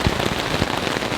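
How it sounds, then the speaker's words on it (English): Heavy thunderstorm rain drums steadily on a camping tent, a dense, loud wash of drops with a few heavier thumps breaking through. "it is raining unbelievably hard"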